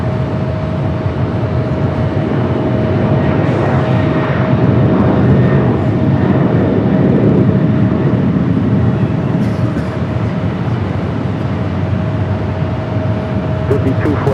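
A jet aircraft at Los Angeles LAX airport, likely an Embraer E-Jet, roars steadily and loudly throughout, a continuous broadband rumble with a sustained tone and no pauses, heard close by.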